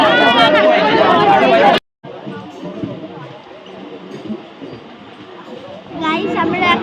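A crowded local train from Santragachi to Digha rumbles along steadily, passenger chatter and babble mixed into the rolling noise, with louder nearby voices at the start and end.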